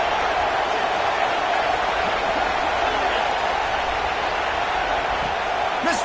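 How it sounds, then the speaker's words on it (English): A home crowd at a football game roars in a steady, loud wash of cheering and noise that does not let up, with no clear single voices standing out. "how nice is it to have the home crowd going absolutely bananas"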